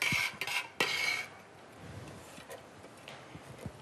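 One onion dropped into a hot soup pot, with a few clattering knocks of utensil against metal pot at first, then a soft, quiet sizzle.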